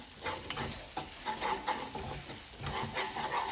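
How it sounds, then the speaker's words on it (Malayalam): Chicken fry with chilli sauce being stirred in a pan: close, repeated scraping strokes over a steady low sizzle, with no voices. "ഞാൻ ഒരു ടേബിൾ സ്പൂൺ കൂടെ ചില്ലി സോസ് ചേർത്തു അതും കൂടി ഒന്ന് ഇളക്കി വെച്ചിട്ട്"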